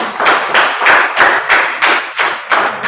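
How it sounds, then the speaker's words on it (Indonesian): Students in a classroom clap together in a slow, regular unison rhythm of about nine loud, close claps with no talking. "Mari kita berikan tepuk tangan kalian teman kalian."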